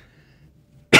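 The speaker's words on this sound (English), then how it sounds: "so I'm probably gonna cough." A single sharp cough bursts out close to the microphone after a near-silent pause, short and loud.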